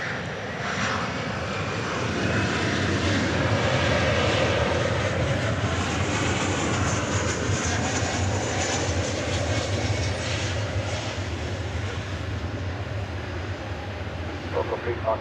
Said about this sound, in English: 737-800 touching down from Austin, Texas, flight 1595.